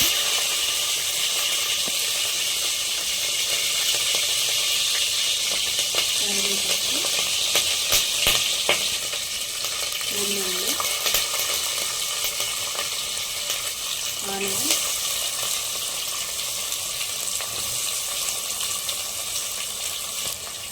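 Cumin, mustard seeds, dried red chillies and green chillies sizzle in hot oil for a dal khichdi tempering, a loud, steady, close hiss with faint crackles and occasional clinks, no talk.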